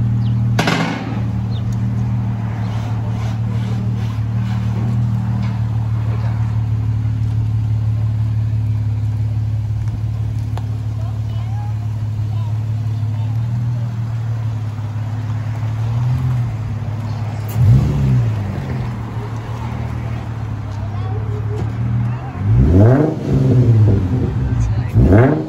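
Infiniti G35 with a loud aftermarket exhaust rumbles steadily near the microphone, with a couple of sharper revs toward the end and faint voices underneath.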